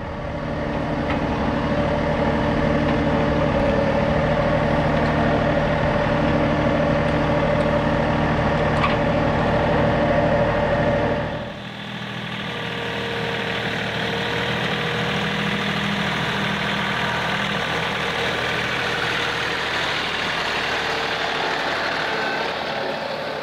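Tractor engine idling at a steady low rumble, loud and close with mechanical knock and vibration, briefly dipping mid-way before settling into a slightly different, continuous idle.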